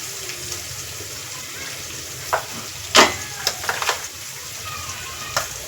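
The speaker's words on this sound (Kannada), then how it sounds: "ಈರುಳ್ಳಿ ಹಾಕೊಂಡ್ಮೇಲೆ ಕೈ ಆಡಿಸ್ರಿ" Chopped onions sizzle steadily in a hot pan as they are stirred, with a few sharper scrapes and clinks of the spoon against the metal rising above the constant frying hiss.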